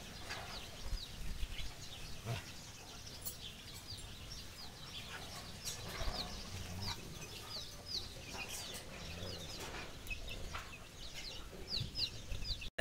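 Herati chickens and young chicks raised alongside quail and ranging freely cluck and chirp continuously at moderate distance, with scattered short calls and a little wing flapping over a steady outdoor background.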